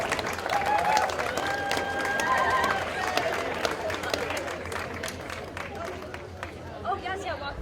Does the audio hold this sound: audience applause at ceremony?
yes